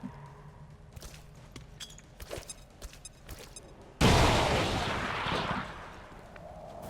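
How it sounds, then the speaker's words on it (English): A grenade detonates in the XCOM 2 strategy game, a sudden loud blast with a long rumbling tail, following a stretch of faint scattered clicks and thuds. "Let's just grenade him."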